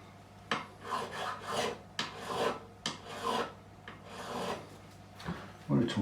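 A file rasps over the guitar frets of a Gretsch G6122 Country Gentleman in short, close strokes, roughly a dozen rhythmic passes with brief pauses between them.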